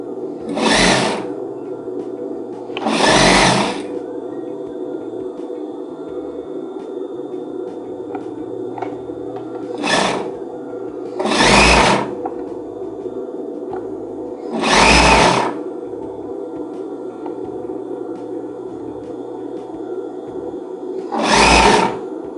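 A sewing machine stitches a lace baby blanket in six short bursts of stitching, each a second or two long, separated by pauses filled with a steady low room hum.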